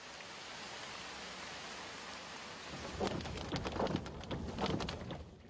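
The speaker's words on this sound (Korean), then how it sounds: "비구름이 모이는가 싶더니 소나기가 내린다." A sudden rain shower sets in, a soft steady hiss of falling drops that swells after a few seconds into a louder, patchier patter on nearby surfaces, with no voices.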